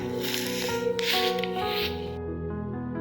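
Sneakers squelch and squish through wet, muddy ground on a walk in the countryside, in a run of soft wet steps close by and fairly loud, with no talking.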